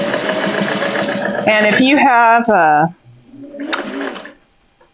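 A vintage sewing machine stitches fabric for a travel thread catcher, running with a rapid mechanical whir that stops and starts in short bursts. A nearby voice talks briefly between the runs.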